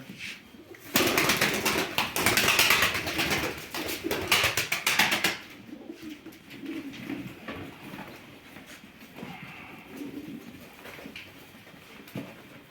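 Pigeons coo while being handled by a breeder sorting grey smoky hens, loud and close at first with rustling, then softer burbling coos continuing at lower level.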